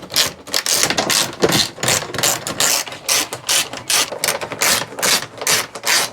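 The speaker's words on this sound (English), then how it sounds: "we're gonna go ahead and undo the ratchet straps" Ratchet straps anchored in a dog-carrying vehicle with kennels are worked loose, giving close, rapid bursts of sharp mechanical clicking in a repeated rhythm with short pauses between strokes.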